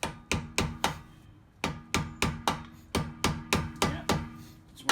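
A hammer strikes a screwdriver again and again to work a notch out during a 2005 Honda Odyssey CV axle job, about a dozen crisp, close metallic taps in an uneven rhythm with short pauses.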